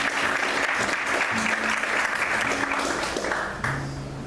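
A church congregation applauds during a service, dense sustained clapping filling the room from start to finish, with a faint voice or hum running beneath it near the end.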